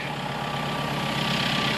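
A tractor engine, recently repaired for maintenance problems, idles with a steady, continuous mechanical drone at an even level throughout, with no voices.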